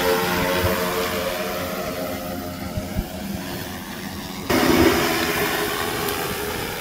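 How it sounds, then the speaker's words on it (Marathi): An agricultural spraying drone, the Agrown-10X, flying over a field, its propellers giving a steady loud whirring buzz with a harmonic hum that jumps in pitch and volume midway, no voices. "इथं तुम्ही बघू शकता ऑपरेटर ड्रोन ऑपरेट करतो."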